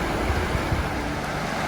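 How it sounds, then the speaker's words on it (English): The Kern River flowing in the High Sierra, a steady broadband rush of moving water with no break or change in level, heard close by and alone. "This is the Kern River."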